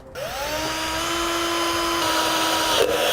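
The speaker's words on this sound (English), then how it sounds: "we'll use this hole in our base plate as a guide to drill a pilot hole right in the" A power drill bores a pilot hole through the steel bumper beam of a 2013 vehicle for a Roadmaster crossbar-style base plate, whining steadily and loud for about three seconds with rising pitch at the start.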